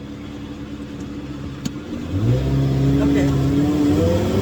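A Ferrari 360 engine runs steadily near by, then rises in pitch as it revs and accelerates over the second half, with a person speaking briefly over it.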